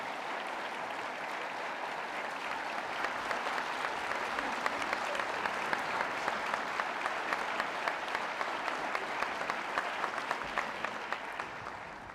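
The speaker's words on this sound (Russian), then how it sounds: "и вы, конечно, заслужили эти аплодисменты" Applause in the chamber of the Bashkortostan State Assembly (Kurultai) during an address by Radiy Khabirov, a continuous even ovation of many hands, heard at moderate distance.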